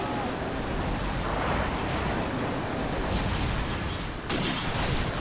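Shotgun blasts in Call of Duty 4 multiplayer, loud and close, merge into a dense, continuous roar of game combat noise with no clear gaps between shots.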